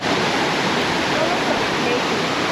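Rushing water from a waterfall running high after heavy flow, a dense, loud, unbroken roar filling the whole clip at close range.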